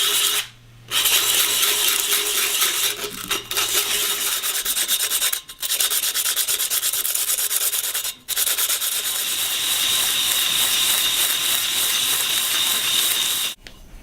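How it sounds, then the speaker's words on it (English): Edge of a cut glass bottle sanded with 100 grit sandpaper: steady, harsh rasping strokes, close and loud, broken by a few short pauses between passes. "Now both of our halves have been sanded with 100 grit sandpaper"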